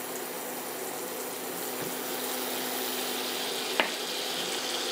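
Salisbury steak patties brown in a frying pan with a soft, continuous sizzle and a quiet steady hiss, broken by one brief sharp tap near the end.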